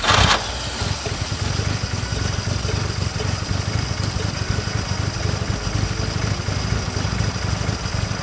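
A 1950 Chrysler DeSoto flathead six engine idles after a brief start, settling into a steady, close, low mechanical rumble with light clatter and no talk.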